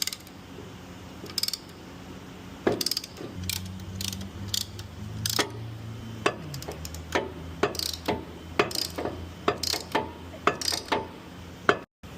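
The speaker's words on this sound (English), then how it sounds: "place my brake depressor tool inside and then start working it back slowly" A brake caliper piston depressor tool is worked back slowly on a 2011–2014 Ford F-150 front brake, giving a close series of irregular metallic ratcheting clicks and ticks with a low mechanical hum underneath.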